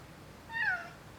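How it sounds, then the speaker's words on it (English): A house cat named Tuco gives a single short meow, clear but fairly quiet against a faint room background. "now he's like, meow"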